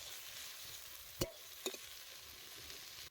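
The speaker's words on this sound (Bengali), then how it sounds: "এখন আমরা আলু শাকটাকে ভালো করে একটু ধুয়ে পরিষ্কার করে আবার ভেজে নেব" Boiled potato greens frying in a pan: a faint, steady sizzle runs throughout, broken by two sharp knocks of a utensil against the pan, with no speech.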